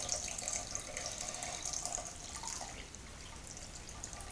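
Wort drains from a grain bag into a pot during small-batch all-grain Black IPA brewing in a kitchen slow cooker, a steady close trickle and splash of liquid running for several seconds without talk.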